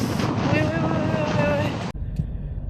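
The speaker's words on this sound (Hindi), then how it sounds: "आज बहुत तेज़ हवा चल रही है, बहुत अच्छी हवा चल रही है।" Strong wind blows outdoors on a sunny day, roaring loudly against the microphone while a voice is heard, then cutting off abruptly into a much quieter stretch.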